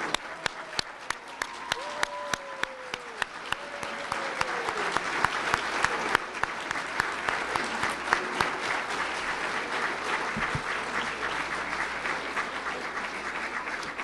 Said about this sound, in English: Everyone, let's give them a round of applause.